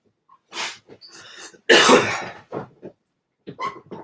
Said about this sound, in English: Had a weird cough coming down